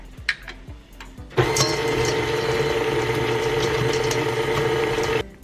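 Granola, baking powder and cinnamon are mixed together for make-ahead breakfast muffins. After a few soft clinks, a loud, steady mechanical whirring runs for about four seconds and then stops abruptly.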